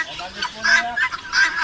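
Chickens cluck in several short, close bursts, with faint background noise and no talking.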